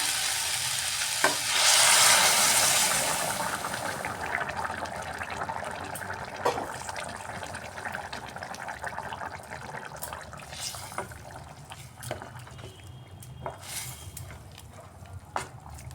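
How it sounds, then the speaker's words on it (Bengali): Hot water pours into a pan of kohlrabi and potato frying in spices, a loud rushing splash and hiss for the first few seconds settling into steady bubbling sizzle with occasional stirring clicks, close up and without speech. "সবজিটা খুব সুন্দরভাবে কষানো হয়ে গেছে আমি এখন এর মধ্যে গরম জল দিয়ে দিচ্ছি"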